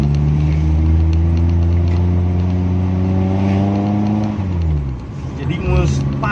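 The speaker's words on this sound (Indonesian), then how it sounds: "bunyi mesin pun padat dia, kompresinya kuat sekali" A Suzuki Feroza engine, fitted with an HCS, revs up steadily and loud up close, then drops back toward idle. Someone talks over the engine.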